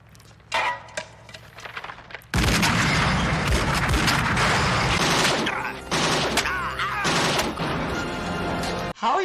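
Movie gunfire from RoboCop: after a few scattered shots, sustained heavy automatic fire and booming blasts roar loudly and almost continuously for several seconds, mixed with film dialogue and a viewer's voice.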